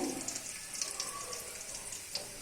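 Curry leaves crackle and splutter in hot frying oil as a soft, hissing bed with scattered sharp pops, fairly faint and heard alone.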